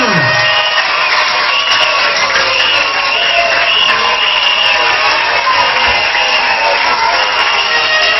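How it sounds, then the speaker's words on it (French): A church congregation at a pastor's consecration applauds and cheers in a loud, constant wash of clapping and voices, with whoops and shouts rising over the crowd. "on peut l'applaudir déjà."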